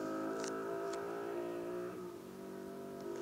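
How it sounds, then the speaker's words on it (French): Motorcycle passing outside, its high revving engine whine rising then dropping away as it goes by, moderately faint and heard through a room. "Oh la moto!"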